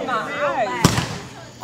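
Fireworks at a July 4th finale show, with one sharp, loud burst near the middle. Excited voices and whistling tones come before it, and a rumbling tail follows.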